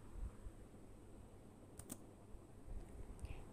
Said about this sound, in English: To fix it, hold FN and the spacebar at the exact same time.